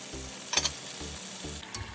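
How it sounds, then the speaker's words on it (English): Vegetable samosas deep-frying in hot oil, four at a time, give off a quiet, steady sizzle with soft bubbling and a few faint clicks, all close by. "I'm going to fry a few samosas"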